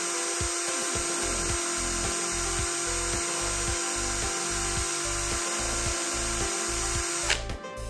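A Bitec INA MMB 1012 L cordless battery drill runs steadily at its second speed setting, a loud continuous whine with a pulsing low hum, ending with a brief clunk near the end; no talking.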